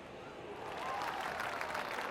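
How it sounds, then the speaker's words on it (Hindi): Audience clapping and cheering for athletes at a race start line, a faint, distant wash of applause that swells slightly and holds steady, with no clear voices on top. "इन एथलीट्स को आज बजने वाली हर ताली की जरूरत है। इनका हौसला बढ़ाइए।"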